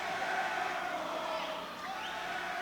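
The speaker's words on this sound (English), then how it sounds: "And the crowd gets on him." A basketball crowd in a high school gym jeers a St. Joseph's player with a sustained roar of mixed shouting and whistling. The noise fills the space steadily at a moderate distance.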